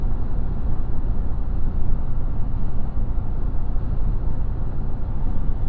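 Inside a Toyota Tacoma TRD Off-Road cruising at highway speed: a constant low rumble of tire and wind noise, steady and unbroken throughout.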